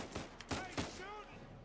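Gunfire in the video game Uncharted 4 cracks out in three sharp bursts in quick succession, followed by a tonal, voice-like sound trailing after.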